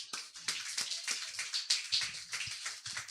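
Steady applause from a church congregation, many hands clapping at once in a continuous patter, heard from some distance and fairly soft.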